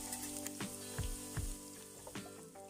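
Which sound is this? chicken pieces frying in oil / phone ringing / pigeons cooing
chicken pieces frying in oil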